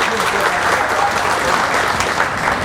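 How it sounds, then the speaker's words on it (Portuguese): Loud, dense applause from a seated audience welcoming a speaker at a coffee-growing irrigation technology conference, a continuous full roar of clapping with faint crowd noise beneath. "uma salva de palmas"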